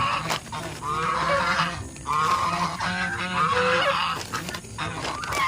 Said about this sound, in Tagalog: Hello mga gansa